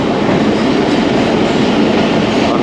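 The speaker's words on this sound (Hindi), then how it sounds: "9:40 पर ट्रेन हमारी पहुंच चुकी है मीरपुर ख़ास रेलवे स्टेशन पर" Marvi Passenger train at Mirpur Khas railway station, a loud, steady rolling roar of wheels and carriages heard close up, continuous for the whole moment with no voices.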